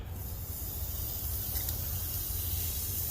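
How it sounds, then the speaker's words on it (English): A steady, soft hiss of ribeye steak sizzling over a fire continues evenly throughout, with no voices, just the constant crackling spray of cooking fat. "then you hear the sizzle"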